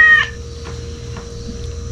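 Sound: cat meowing

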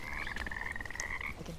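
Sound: frogs croaking in video game Bramble: The Mountain King

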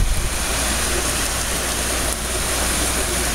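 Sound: heavy rain falling

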